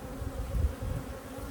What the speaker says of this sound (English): plenty of bees, looks good